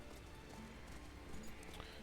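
Steady clip-clop of horse hooves from the Octopath Traveler II video game, a rhythmic trot running continuously over a dense in-game music and ambience bed.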